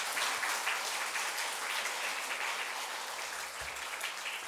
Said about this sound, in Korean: 우리 옆에 있는 분 박수 한번 해줍시다.